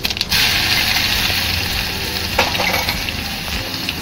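Mustard seeds, cumin and garlic crackle in hot oil as the base for brinjal bharit, a steady loud sizzle with a brief clatter partway through and no talking.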